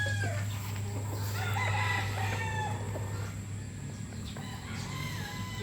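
Hens cluck and a rooster crows amid a busy flock, with a steady low hum running underneath throughout.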